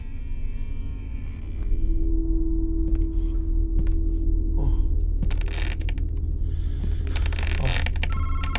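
A phone rings in the horror video game Madison, with a short electronic trill at the start and another near the end over a low, droning rumble.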